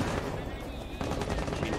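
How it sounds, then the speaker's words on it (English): Sustained, dense gunfire fills an esports match of Rainbow Six Siege on the Border map, a steady burst-laden roar with crackling bursts throughout, loud and continuous with overlapping shots rather than isolated reports. "He has gunfire coming in"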